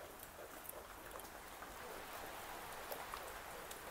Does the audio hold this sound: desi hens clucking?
no